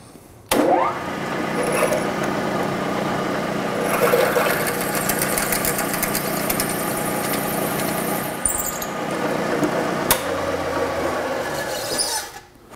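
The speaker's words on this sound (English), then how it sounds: "it machines them to the proper depth evenly all the way across." A machine cuts an aluminum cylinder head lubricated with cutting oil, a steady whirring grind that runs close and loud for several seconds with a few abrupt starts and stops.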